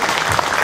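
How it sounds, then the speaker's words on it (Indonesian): Dense, loud applause from a crowd at a campaign declaration event opening a Jakarta governor campaign house for Pramono and Rano, a brief continuous burst of many hands clapping. "Ya tepuk tangan buat kita semua."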